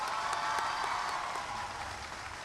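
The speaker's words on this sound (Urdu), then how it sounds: "زوردار تالیاں بجائیں." A roomful of girls at a children's character-building session claps loudly in dense, sustained applause that holds steady and eases slightly near the end.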